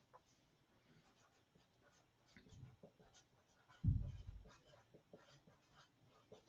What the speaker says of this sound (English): I'm going to take the tab and I'm going to write for myself affirmations.